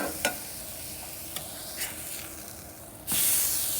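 Food sears on a covered Blackstone griddle, producing a steady sizzle with a few scraping clicks and a louder hissing burst near the end.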